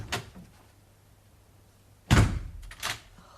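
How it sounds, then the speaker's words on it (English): A bedroom door in a 1979 radio drama is shut with one heavy thunk, followed a moment later by a softer knock or latch sound, in an otherwise quiet room. "In her room, my lady, and she has locked the door."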